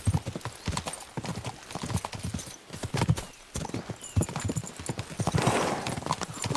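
Horses galloping in a video game, a fast continuous clip-clop of hooves that stays close and loud, with a whinny and faint voices underneath.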